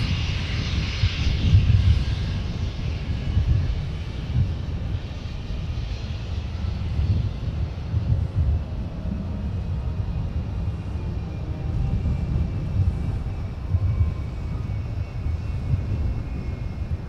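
An airliner, a former Northwest 757-300, takes off at Minneapolis-St Paul airport, its jet engines a broad, steady roar at moderate distance that holds level and swells slightly early on, with no talk.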